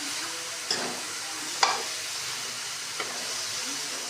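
Masala frying with milk-type bottle gourd gives a dense, steady sizzle and hiss, broken by a few light stirring clinks and scrapes.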